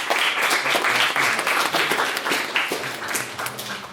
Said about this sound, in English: could we all just please give them a big round of applause and thank you